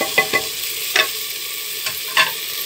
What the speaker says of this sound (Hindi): हल्दी, नमक, सुर्ख मिर्च, धनिया, अदरक लहसुन ये डाल देंगे हम।